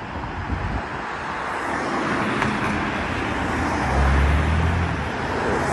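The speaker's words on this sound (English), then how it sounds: "Fucking cars, man." Cars passing on a road make a steady, broad roar of traffic with a low engine hum swelling briefly toward the end. The sound is continuous and moderately loud, and no one speaks.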